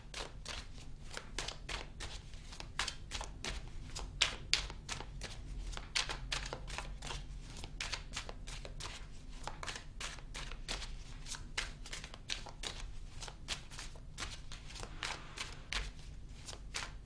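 A tarot deck being shuffled continuously, a dense run of crisp card riffles and slaps close by with no talking.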